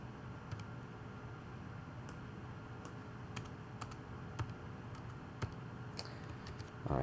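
Computer keyboard typing while editing code, quiet scattered keystrokes and clicks at an uneven pace against a low steady background hiss.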